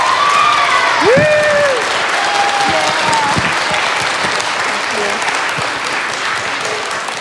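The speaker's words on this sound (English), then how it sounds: "So if you all would give Crystal another round of applause." Applause from the audience at a school concert, dense and sustained at first and then slowly thinning. A few whoops and cheers rise above the clapping.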